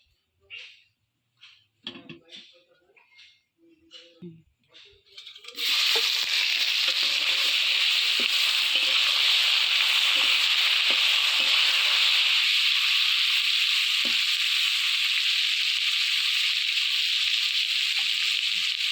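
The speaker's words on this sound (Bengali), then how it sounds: "এবার মাছগুলো আমি ভেজে নেব মাছ ভাজার জন্য কড়াইতে তেল দিয়ে দিয়েছি" Singi fish dropped into hot oil in a wok: a few scattered clinks and taps first, then a sudden loud, steady sizzle that keeps up without a break and softens a little later on.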